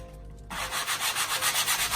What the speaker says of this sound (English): So we're going to take our sanding block and we're going to prepare our board.